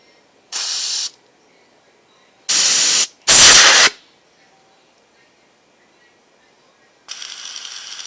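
Compressed air hisses through a Briggs carburetor in several short, loud blasts separated by silent gaps, each lasting about half a second, with a longer rougher blast at the end.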